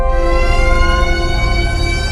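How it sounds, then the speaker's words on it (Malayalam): A loud, steady factory alarm siren wails continuously at a constant pitch during a gas leak, unbroken and dominating the whole stretch. "ഫാക്ടറിയിലെ അപായ സൈറൺ തുടർച്ചയായി മുടങ്ങി"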